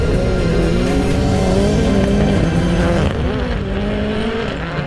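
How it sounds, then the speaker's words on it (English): A Subaru race car spins out during a race semifinal, with loud engine revving and sweeping tire squeal sliding in pitch, easing off toward the end. "he spins out of the race."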